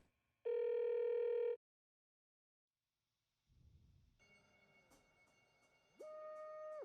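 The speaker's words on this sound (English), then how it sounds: "We don't get to see if the phone answers." A telephone in the video game Alan Wake 2 sounds a clean tonal ring burst, falls silent, then a low rumble leads into layered electronic tones and another sustained ring tone.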